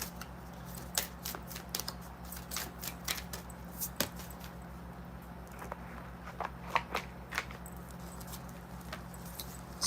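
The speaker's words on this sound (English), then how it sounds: "I'm going to shuffle 3 more times." A deck of tarot or oracle cards is shuffled by hand, with quick irregular riffles and soft card snaps over a low electrical hum, close and fairly quiet.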